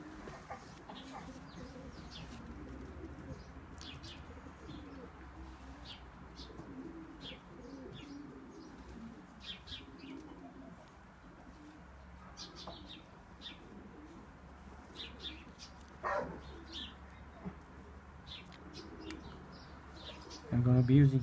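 An injured pigeon, wounded by a bird of prey and being treated, gives soft low coos and faint chirps against a quiet indoor background, with a brief louder bump near the end.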